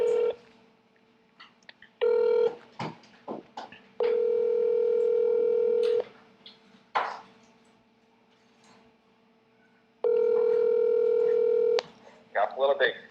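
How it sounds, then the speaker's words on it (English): Telephone call being placed: steady dial tone bursts alternating with quick DTMF keypad beeps and short tones, clear and close, with brief voice fragments in the gaps between tones. "let's get Dale on the phone and do some Worlds talk"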